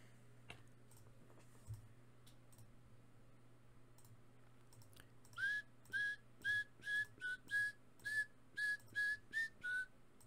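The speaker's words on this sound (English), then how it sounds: "I just whistled." A person whistles a short repeated tune of about ten clear, evenly spaced notes, close and fairly loud, after a few seconds of quiet room noise with faint clicks.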